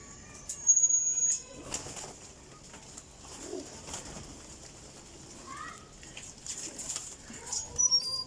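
Teddy pigeons, a netted or lace-patterned breed, flap their wings in short bursts near and far, with soft cooing and bird calls in the background.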